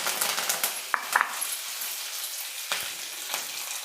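Chopped curry leaves dropped into hot oil in a pan for a palak garlic curry, giving a close, steady sizzle and crackle with a few sharp pops and light utensil clinks.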